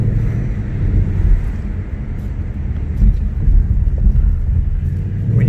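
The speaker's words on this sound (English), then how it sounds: "Just listen to that music coming out of the exhaust and the engine." A V8 car engine and exhaust burble steadily while cruising, giving a loud, continuous low rumble with no pauses and no voices.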